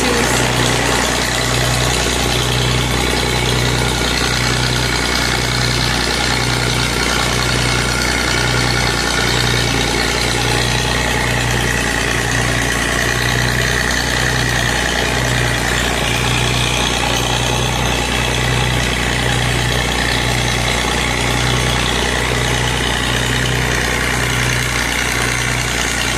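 An Oliver 70 tractor engine idles steadily for the whole stretch, a loud, even, pulsing low rumble with a rhythmic throb and no voices over it.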